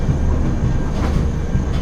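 A passenger train running toward Haridwar, heard from inside a nearly empty cabin as a loud, steady low rumble and rattle with faint rhythmic wheel clatter and no voices.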